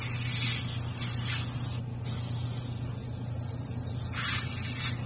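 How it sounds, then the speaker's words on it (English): An airbrush sprays red paint across a 1/4 scale Hellboy figure, the steady close hiss fanned out in long passes with one short break. "Now I'm starting to spray here, and I'm fanning it out this way"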